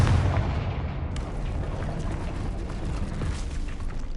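A Confringo spell explosion in Hogwarts Legacy, a deep boom at the start that trails into a long, rumbling, crackling wash of debris at moderate loudness.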